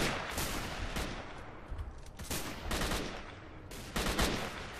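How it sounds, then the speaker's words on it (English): Repeated shotgun blasts in the S.T.A.L.K.E.R. Call of Pripyat game, fairly loud, forming a dense burst of gunfire with several sharp shots spread across the clip. "I can hear someone with a big fucking shotgun shooting."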